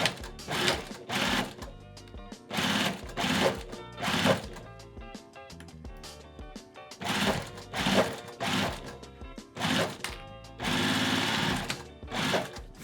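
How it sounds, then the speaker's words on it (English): A sewing machine stitching the lining of a fabric box bag, running in repeated loud, close bursts of rapid mechanical chatter separated by brief pauses. "I'm gonna put my lining down and fold these pieces out of my way. Let's go ahead and sew."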